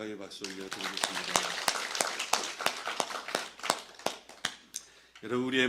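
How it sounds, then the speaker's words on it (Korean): A church congregation claps in praise during a Sunday service, with sharp, distinct handclaps that start dense and then thin out, rising and falling over several seconds. Singing voices come in near the end. "우리 하나님께 영광의 박수 올려드리겠습니다."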